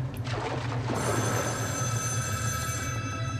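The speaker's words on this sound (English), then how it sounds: "Is that a phone?" An old-style telephone bell rings loud and continuous in Metro: Last Light, a bright metallic trill sustained after a brief low rumble at the start, with no talking.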